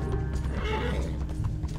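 Horse running in Red Dead Online, with a galloping clip-clop of hooves and a whinny, a close and continuous sound with no talk over it.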